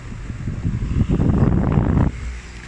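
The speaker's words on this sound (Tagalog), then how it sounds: "paramdaman ulit natin yung makina" A Westinghouse industrial floor fan motor runs after being taken apart and repaired, giving a steady close whirring rumble for about two seconds before it winds down abruptly.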